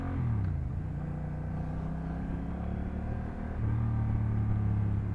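A 2024 Honda Rebel 1100 motorcycle carries a steady low engine drone while riding, with a slight pitch shift partway through and wind-like rumble throughout.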